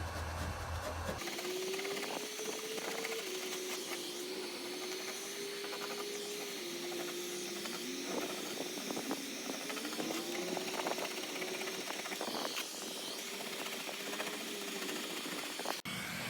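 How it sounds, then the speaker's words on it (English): A heat gun blows steadily while paint is stripped from a garage door, giving a continuous close airy hiss with a wavering motor whine and faint scraping clicks. "So you're going to really need to heat it up just to get it off."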